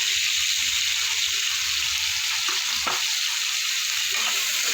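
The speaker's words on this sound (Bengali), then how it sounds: "আলুটা আমি একটু হালকা লাল করে ভেজে নেব" Potatoes fry in oil in a pan with salt and turmeric, giving a loud, continuous sizzle with a few brief stirring scrapes and no talking.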